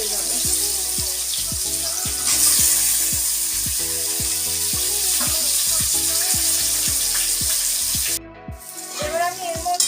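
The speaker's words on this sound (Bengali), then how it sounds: "এবার আমি এই তেলের মধ্যে নুন হলুদ মাখিয়ে রাখা আলুগুলো দিয়ে দেবো" Potatoes coated in salt and turmeric frying in hot oil for cabbage sabzi, a steady close sizzle running throughout over a low, rhythmic backing of music.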